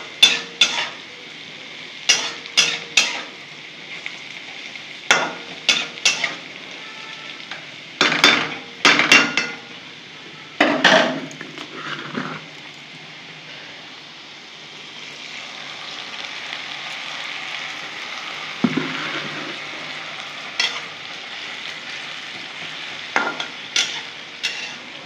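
Papaya frying in a pan is stirred with a utensil, giving repeated sharp scraping clacks in irregular bursts over a faint steady sizzle.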